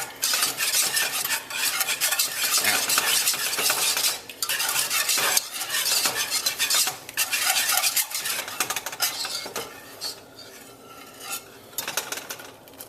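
A spoon stirs cheese sauce in a pot on the stove, a steady scraping and swirling that runs continuously with short pauses, close and fairly loud.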